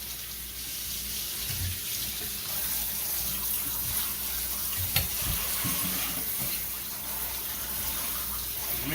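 Steady running cold tap water for rinsing jerky, a constant hiss with occasional splashes and clatter, no talking.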